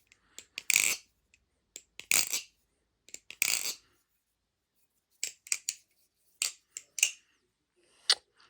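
Scissors snip through tape being applied to a Baliplus Krake Raken V2.5 clone yoyo, giving quick clusters of sharp, close cutting clicks separated by short silences, with no voices.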